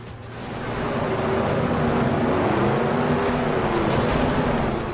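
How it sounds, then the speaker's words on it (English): Car engines roar in the racing video game Crumple Zone, a steady, dense rumble holding loud and continuous for the full stretch with no voices. "Engines sound meaty and full of roar"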